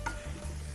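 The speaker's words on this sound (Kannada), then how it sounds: "ಈರುಳ್ಳಿ ಚೆನ್ನಾಗಿ ಫ್ರೈ ಆಗಬೇಕು" Onions and curry leaves fry in a pan with a soft, steady sizzle and a brief stirring scrape near the start, fairly quiet and close.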